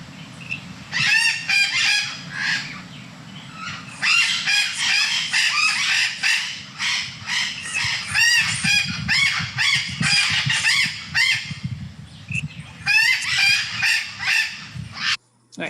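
Captive Puerto Rican Amazon parrots from the El Yunque population call loudly and repeatedly, with harsh squawks arriving in dense runs and brief pauses over a low background rumble.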